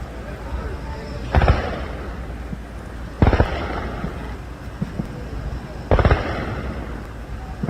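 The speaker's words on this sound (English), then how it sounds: "This is anti-air fire inside Iran." Anti-air fire over Iran at night, three heavy booming bursts spaced a couple of seconds apart over a steady rumbling background, loud and somewhat distant.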